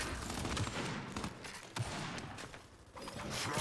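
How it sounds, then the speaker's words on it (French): Rapid machine gun fire in the video game Gears 5 during a competitive match, sustained dense bursts with mechanical clatter, briefly dipping before resuming loudly. "Et là c'est vraiment de la mitrailleuse pour faire descendre la vie de chacun."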